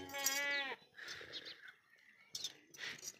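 A goat, part of a beetle-breed herd with kids, bleats loudly and close for under a second, followed by quieter rustling and muffled talk from people nearby.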